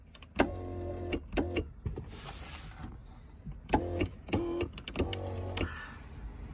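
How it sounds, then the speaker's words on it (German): The electric sunroof of a 19-year-old Mercedes W210 E 320 CDI with 402,000 km runs in several short motor whirs, stopping and restarting, close and fairly quiet, with brief clicks between runs. "Das Schiebedach, hört es euch an."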